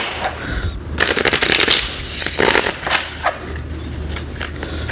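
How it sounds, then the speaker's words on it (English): A golden tarot deck being shuffled by hand, with crisp, rapid riffling bursts of card flutter coming in short clusters, close and clear with brief pauses between. "I'll get another shuffle, and we'll start."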